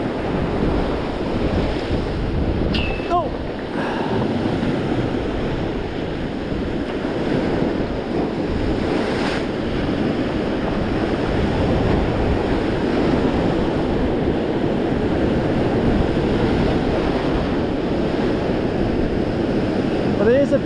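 Waves break on a shore on the English Riviera during a morning fishing trip, a continuous loud surf roar mixed with wind buffeting the microphone, steady throughout.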